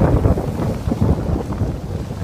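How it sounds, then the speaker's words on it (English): Outdoor wind buffets the microphone in a constant loud low rumble with gusty swells, steady throughout with no other clear sound. "there's a lot of wind"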